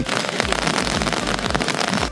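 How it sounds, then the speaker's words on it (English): Rain pattering steadily on surfaces in a city street during a sun shower, a dense close hiss of drops that runs throughout the short stretch. "Look at the rain coming down and the sun's in the background."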